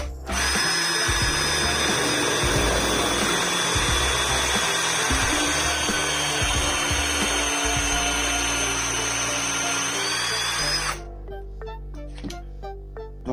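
A power drill fitted with a freshly sharpened twist bit bores into wood with a loud, steady high whine for about ten seconds, then cuts off, leaving a low hum and a few faint clicks.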